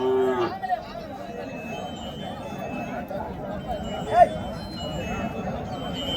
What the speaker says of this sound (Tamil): நாட்டு பசுமாடு கண்ணு மாடை எடுத்துன்னு வந்திருக்காங்க